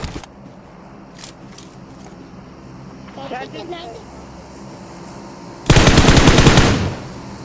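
Gunfire in PUBG Mobile played on an iPad Mini 5: a few sharp shots early, then a loud sustained burst of automatic fire, with quieter sound effects in between.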